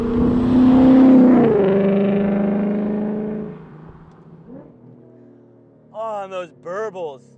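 A car engine revs up and winds down, its tone falling, then settles into a low idle with a few sharp, crackling exhaust burbles near the end, close and loud; no one speaks.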